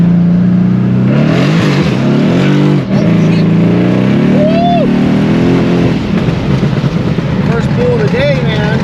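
A Mercedes CLS63 AMG running E85 accelerates hard on a freeway, its engine droning loud and close with rising pitch, a gear change, then a continued climb, while someone talks over it.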